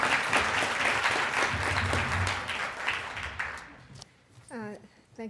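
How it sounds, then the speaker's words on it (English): A conference audience claps loudly in a sustained round of applause, which fades after about four seconds as a single voice begins speaking. "a big round of applause"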